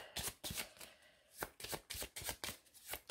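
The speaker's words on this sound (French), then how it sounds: "il mélange son paquet" A deck of cards is shuffled repeatedly during a solo game of World Wonders, with rapid riffling bursts in a quick, uneven rhythm, close and fairly loud.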